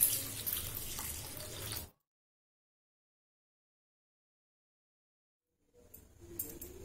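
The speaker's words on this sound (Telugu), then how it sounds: "ఈ అటుకుల్ని ఫస్ట్ కడుక్కోవాలి" Flattened rice (poha) being rinsed in water, with a steady splashing, running-water wash that stops abruptly, then quieter water movement resumes near the end.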